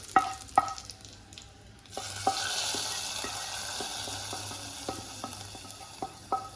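A few sharp utensil clicks, then a burst of hissing sizzle as hot mustard seed and dried red chilli tempering hits a vegetable curry, continuing steadily with occasional spoon taps.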